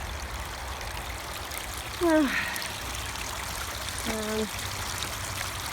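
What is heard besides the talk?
water trickling from a recirculating pump in a banjo pan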